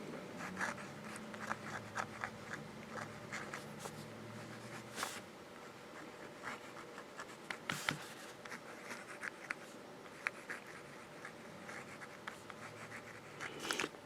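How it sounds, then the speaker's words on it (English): Kaweco Liliput fountain pen with a smooth, wet-flowing nib scratching across paper in a steady series of quiet strokes, with a few sharper ticks and scrapes, close and faint with no talking. "Nice smooth nib. It's wet. Has some really good ink flow. Downstroke, cross stroke, reverse writing."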